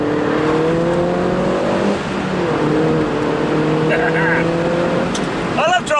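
Mini John Cooper Works R59 Roadster driving in slippery conditions with wheel spin, a steady engine drone with harmonic tones rising and falling, and a brief burst of revving near the end.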